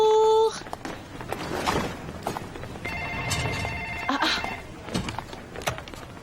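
A telephone rings in an office, several bright electronic ring bursts sounding close at the start, with footsteps and room movement following and people speaking around it.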